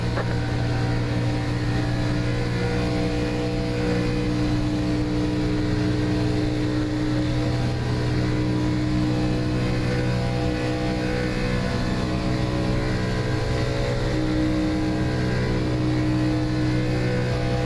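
Stock cars race in a pack at Daytona in the iRacing simulator, a steady loud engine drone with layered harmonic tones holding constant throughout, no talk.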